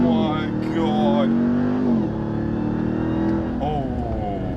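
A 2021 Ram TRX truck with 702 horsepower accelerates hard, its engine roaring loudly and climbing in pitch through the gears while someone talks excitedly over it.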